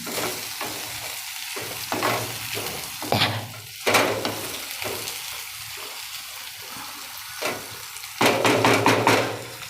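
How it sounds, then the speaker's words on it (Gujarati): Pigeon peas and fenugreek frying in oil sizzle loudly up close, broken by repeated scraping stirs with a spoon that come in uneven bursts, with no talking. "આવી રીતે તેલમાં ફેરવતું રહેવાનું દાણાને અને મેથીને"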